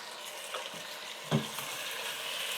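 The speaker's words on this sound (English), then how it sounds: "So in goes the steak." Steak sizzling steadily in a hot pan, a broadband hiss throughout with a brief louder burst of spattering as the meat is set down, no talking.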